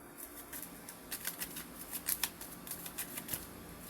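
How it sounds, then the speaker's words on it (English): A deck of tarot cards being given a crunchy riffle shuffle, heard as quiet, close crisp rustles and rapid papery patters in uneven bursts, with no talking. "I wanna shuffle like the crunchy shuffle"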